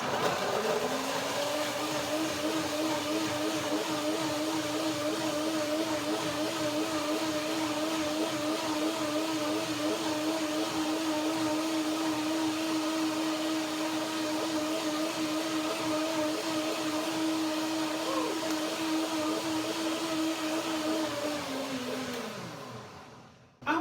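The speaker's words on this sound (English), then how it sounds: "lemon here is a wonderful third ingredient with the banana and cashews dressing, blender dance" Blender whirring steadily for over twenty seconds as it purees a dressing of cashews, banana and lemon, a loud continuous motor drone with a slight wavering pitch that winds down at the end.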